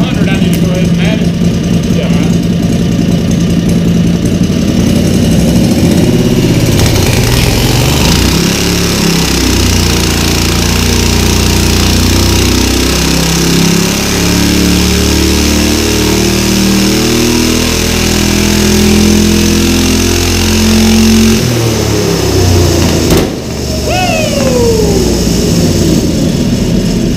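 A V-twin go-kart engine with its governor removed roars loudly on a dyno, holding a steady drone and climbing in pitch through a long rev before dropping off sharply near the end.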